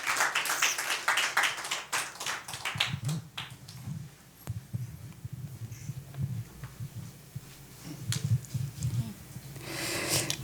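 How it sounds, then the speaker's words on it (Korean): A church congregation at a New Year's Eve worship service claps to welcome a deaconess, with a burst of fairly close clapping over the first few seconds that then thins to scattered claps and low room murmur. "우리 격려하는 박수로 집사님 맞이하겠습니다"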